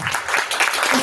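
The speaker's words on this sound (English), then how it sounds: "Big clap to everyone." Short burst of audience clapping at a university startup competition final in Hokkaido, a dense wash of hands from the room, fairly loud and sustained across the moment.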